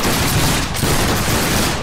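Massed musket volleys ring out in the Battle Grounds III game during a line battle, a dense, loud crackle of gunfire rolling continuously with no gaps.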